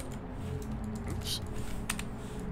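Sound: typing on a computer keyboard

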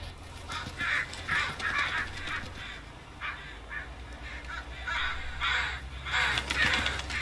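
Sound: crows cawing in Farming Simulator 19 video game

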